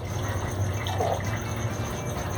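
Homemade simple syrup of equal parts water and sugar pours in a brief, steady trickle into a small cocktail jigger, a soft continuous liquid sound close by with no talking.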